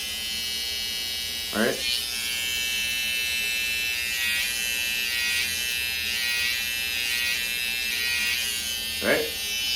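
Electric hair trimmer buzzing steadily and close for a line-up haircut, its whine running throughout with brief swells as it touches the hairline; someone speaks a couple of words over it.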